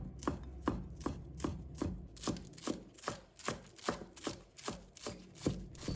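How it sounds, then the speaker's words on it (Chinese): A knife chops scallions into small pieces on a board, about fourteen crisp, evenly spaced strikes at a brisk, steady rhythm, close by and clear with no talking. "给它切成葱花"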